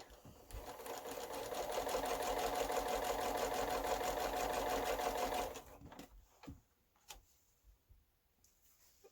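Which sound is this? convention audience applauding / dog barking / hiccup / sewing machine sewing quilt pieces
sewing machine sewing quilt pieces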